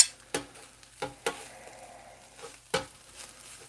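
Beef and onions are stirred together on a flat-top griddle, with a soft steady sizzle and several sharp spatula scrapes and clanks at irregular intervals, no talking.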